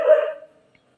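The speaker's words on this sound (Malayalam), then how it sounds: "ഇതിൻ്റെ ഇടയ്ക്ക് നമ്മളെ നായി കുരച്ചുകൊണ്ട് നിൽക്കുന്നുണ്ട് കേട്ടോ" A single short dog bark sounds close and clear at a house with cattle in a shed, then quickly fades into silence.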